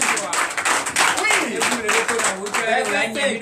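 Rhythmic clapping from a church congregation during an Easter Sunday service in Comè, Benin, mixed with voices calling out over the steady beat.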